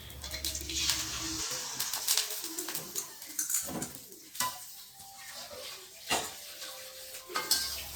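Water spinach is stir-fried in a burnt wok, with a hissing sizzle at the start, then metal utensil scrapes and clinks against the pan. Birds coo softly in the background.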